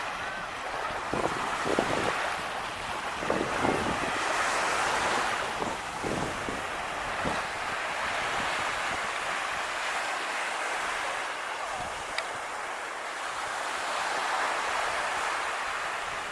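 Surf washing onto a quiet Hawaiian beach near Haleiwa, a soft continuous roar of breaking waves mixed with wind buffeting the microphone, steady and moderately distant.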